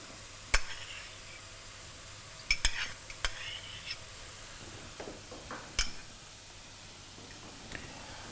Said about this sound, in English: And just mix them very well.